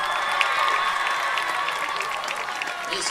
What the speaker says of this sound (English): Holman crowd has kind of caught their second wind here.